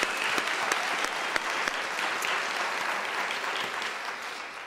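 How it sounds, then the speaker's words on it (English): University graduation ceremony crowd applauding, a dense sustained wash of many hands clapping at a fairly distant, even level with occasional sharper claps, no talking over it. "Can we give them a round of applause?"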